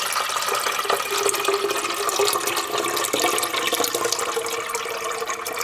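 Water pouring steadily from a Brita filter pitcher into the tank of a CVS humidifier, a continuous splashing trickle that stays at an even level throughout with no talking.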